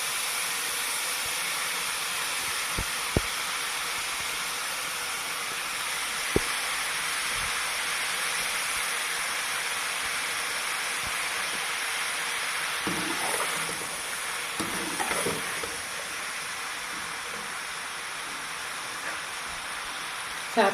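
About 700 grams of rice sizzle in a hot pan for chicken fried rice, a steady hissing fry with a few sharp clicks. Louder scraping stirs come toward the end.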